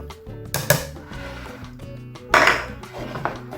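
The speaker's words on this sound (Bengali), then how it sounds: "বাদামটাকে ক্রাশ করে নেওয়ার পর এখন আমি চিনিটা এখানে অ্যাড করে দিচ্ছি।" Sugar goes into a blender jar holding crushed peanuts, heard as close clinks and knocks of utensils against the jar plus a rattling pour, brief and without talk.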